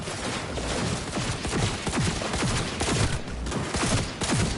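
Rapid gunfire at close range in the video game Cyberpunk 2077, with a dense, continuous volley of loud shots and no pauses.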